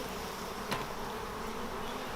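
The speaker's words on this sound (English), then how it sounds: "lots of bees there, side to side" Honey bees buzz as a steady, dense drone over hive frames during a swarm-control inspection, continuous and close throughout with no talk.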